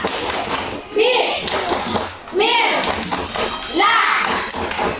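Children chant a rhythmic clap routine in a classroom, voices rising together in three bursts, each ending in a cluster of claps, with steady chatter between.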